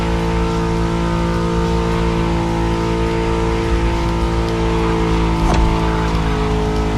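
Car engine in The Crew Motorfest video game revving steadily and loudly for the whole stretch, a dense sustained drone with a brief sharper flare of revs near the end, with no talking.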